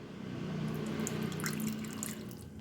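Water trickles and drips steadily into a bowl of pakora batter while it is mixed, a soft continuous pour heard alone at low level.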